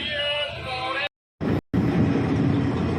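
The 12527 Ramnagar Chandigarh Weekly Superfast Express runs with a steady broad rumble and rattle of wagons, cut by two brief silent gaps before resuming loud and continuous.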